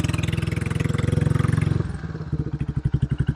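A Royal Enfield California Goan 411 motorcycle, new and not yet broken in, runs close and loud with a throaty, pulsing exhaust that blips up and then settles into slower, distinct thumps.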